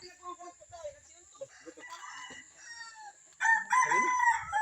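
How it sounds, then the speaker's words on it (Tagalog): Chickens cluck and call softly at a friend's house during a birthday gathering. Then a rooster lets out a loud, close crow that carries through to the end. "Daming manok ano."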